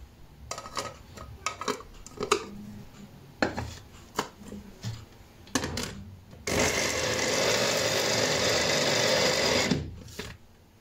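An electric grinder whirs through soaked chickpeas for Moroccan falafel, a loud continuous buzz lasting about four seconds after a run of clinks and clatter from kitchen utensils.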